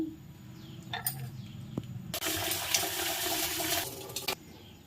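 Lentils and tomatoes washed in water: soft splashing and handling at first, then a louder rush of running water for about two seconds before it stops, close by.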